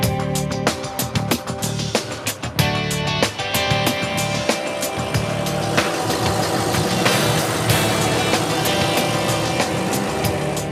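An inboard boat engine starts up and runs steadily, a close, loud mechanical rumble with an irregular sputtering rhythm at first that settles into a continuous idle.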